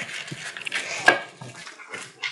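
Collie puppy whimpers and pants close by during indoor play on a wobble board, soft whines mixed with quick breaths and light movement noise.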